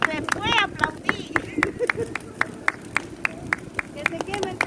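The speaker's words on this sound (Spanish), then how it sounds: "después aplaudí" People clap in a steady, even rhythm beside a San Juan bonfire, sharp claps repeating about every quarter second at close range while voices talk now and then.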